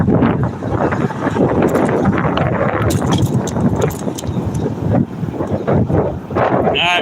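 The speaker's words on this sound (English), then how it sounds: "we got some westbound headwind" Strong westbound headwind buffets the microphone during a bike ride, a loud continuous rumbling roar with gusty surges and no clear speech.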